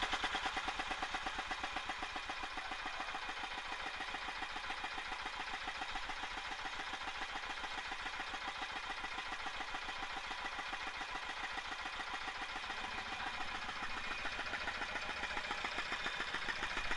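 A diesel tractor engine idles steadily and close by, a smooth, even mechanical chugging that runs without a break from start to end, with no voices.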